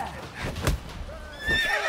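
A horse whinnies in The Witcher 3, a short neigh mid-clip followed by another rising call near the end, with faint background game sounds and some voice.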